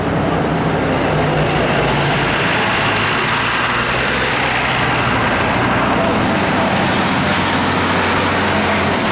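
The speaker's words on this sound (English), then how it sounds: "C2 bus is one of the Oban buses." An Adelaide C2 Oban bus moves through city traffic, a loud broadband engine rumble and road roar filling the scene continuously, with a voice speaking over it.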